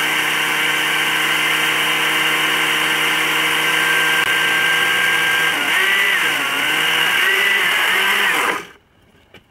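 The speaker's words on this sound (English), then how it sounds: "Now just grind it, blend it till it's looks like baby powder or talcum powder" A blender grinding potassium nitrate into a fine powder runs as a loud, steady whirring drone that shifts pitch slightly near the end, then cuts off abruptly to near silence.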